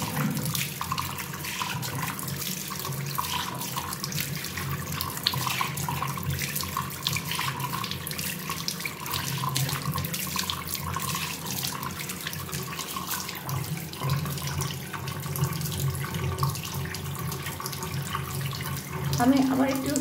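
Tap water runs steadily from a faucet into a sink during a nighttime face-washing routine, rinsing off a face mask, a continuous close hiss with slight splashing variation and no talk.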